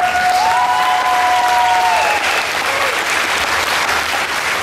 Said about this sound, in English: Can we just get a massive round of applause for the Alt Party organising staff?